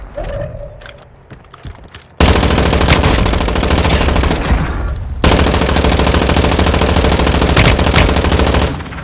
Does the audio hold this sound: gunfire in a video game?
yes